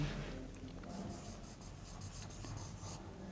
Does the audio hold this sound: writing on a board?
yes